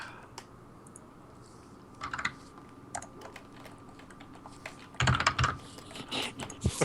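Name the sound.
typing on a computer keyboard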